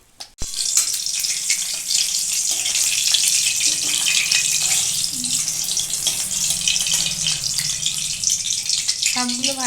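Stuffed pointed gourd (potol) fries in a pan with a steady, close hiss and crackle of oil running throughout, broken by a brief clatter near the start.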